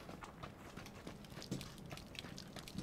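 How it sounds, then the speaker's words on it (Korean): Footsteps in PUBG: rapid, soft rhythmic thuds of a running player, faint and steady throughout the short stretch, with a muffled, somewhat distant quality. "앞에 발소리"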